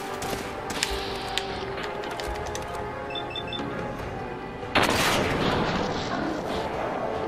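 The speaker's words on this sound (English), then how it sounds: "Nice job shooting your buddy in the back there." Gunfire rattles through a Fallout 4 firefight as a steady rumbling barrage. Scattered sharper shots and clicks sit inside it, and the din grows louder and denser toward the end, with no voices.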